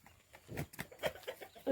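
A hen clucks softly in short, irregular bursts beside her small white and black chicks, fairly close and quiet, with a few sharper calls near the end.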